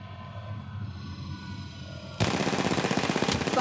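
Automatic weapon fire in the mobile shooter Apex Legends Mobile: after a quiet stretch of ambient hum, a loud rapid burst of evenly spaced shots starts abruptly and continues to the end.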